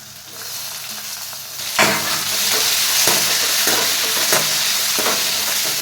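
Chopped tomato drops into a pan of onion fried golden for dal tadka, setting off a sudden loud, steady sizzle with rhythmic scraping of a spoon stirring through it.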